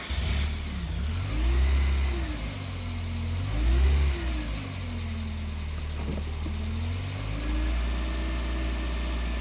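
Mazda Miata NA with a low-idle fault: the idling engine is held up in rhythmic revs, with three rising swells followed by a steadier, higher idle, heard close and without speech.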